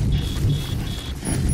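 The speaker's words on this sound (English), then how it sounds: "Oh shit, I'm in the rain." Timefall rain pours steadily in Death Stranding, a dense, loud wash of falling water with a low rumble beneath and a faint repeating electronic tone above, with no voices.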